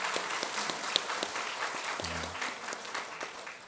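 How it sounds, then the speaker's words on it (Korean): A church congregation applauds its teachers with steady, dense clapping filling the room at moderate loudness, a low hum briefly rising partway through, no talk over it. "함께 박수로 좀 격려했으면 좋겠습니다"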